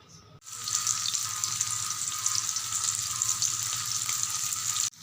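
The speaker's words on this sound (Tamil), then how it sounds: "ஃபிஷ் ஃப்ரை ரெடியாக போகுது." Marinated sardines frying in a pan give a steady, dense hiss and crackle that holds evenly for several seconds, close and continuous, with no voices.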